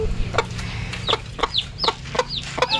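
Newly hatched chicks give quick, high, falling peeps, about six or seven close together over a few seconds, near and clear with no talking.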